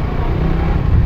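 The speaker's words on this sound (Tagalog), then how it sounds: "Sasakay tayo sa motor ni Papa Jun." Large motorcycle engine heard while riding pillion, a steady loud rumble with wind noise that continues throughout the clip, close and without talk.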